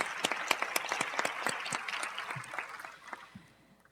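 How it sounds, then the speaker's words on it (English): An audience at a medical conference on diabetes and peripheral artery disease breaks into applause, a dense patter of many hands clapping that fades out over a few seconds. "let's give the group a round of applause for having done"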